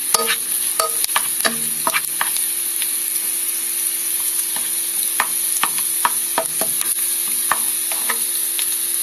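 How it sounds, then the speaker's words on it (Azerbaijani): Onions frying in fat in a pan on a gas stove, a steady close sizzle with repeated sharp scraping and stirring strokes over it, alone with no talk. "Soğanı yağda qızardırıq"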